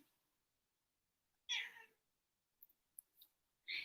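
A house cat meows indoors in a few distinct calls, one long drawn-out cry followed by short chirps and another loud meow, close by against near silence.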